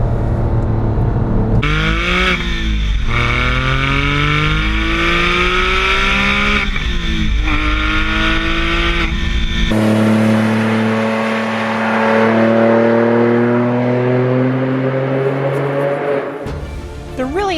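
A Porsche 997 911 GT3's flat-six engine revs loud and close, its pitch sweeping up and down through repeated gear changes before settling into a long, steady high-speed drone.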